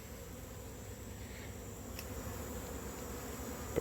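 Honeybees buzz steadily around hives during hive combining, a dense continuous drone with nearby wing hum, no voices.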